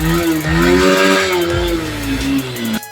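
A Honda CB Hornet motorcycle engine runs through its repaired exhaust, a close, loud rev that rises and settles back over a few seconds before cutting off abruptly.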